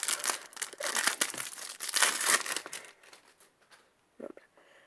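Panini Euro 2016 sticker card foil packet being torn open and crinkled up close, a run of crackling rips followed by quieter handling and a last brief crinkle.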